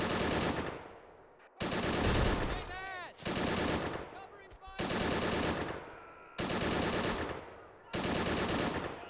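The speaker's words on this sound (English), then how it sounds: "I'm going to zoom in over here on this machine gun." Machine gun bursts in the video game Army Men: Plastic Wars, several loud sustained rattling volleys in rapid succession separated by brief gaps, with some faint ringing game effects between them.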